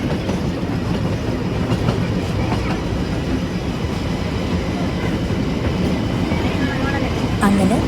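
The Ooty toy train rolls slowly along, heard from on board as a loud, continuous rumble and rattle of the carriages with steady clatter throughout.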